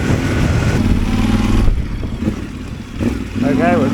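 A Yamaha Tenere 700 motorcycle cruising along forest roads, its engine a continuous loud drone with wind rush, easing off briefly before picking up again.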